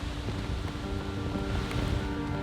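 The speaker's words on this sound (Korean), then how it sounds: "양동이로 쏟아붓듯 비의 양은 점점 더 많아지고 서 있기 힘들 정도로 파도까지 거세졌다" Storm wind and heavy rain with rough waves surging at a bass fishing venue in the USA, a steady loud broadband roar of surf and gusts with no talk.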